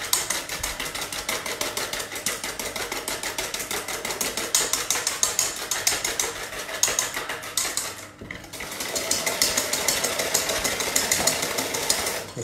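Egg yolks whisked by hand until pale for a Breton floating-island dessert, giving a rapid, steady clatter of the whisk against the bowl that keeps up the whole time, with one short pause near the end.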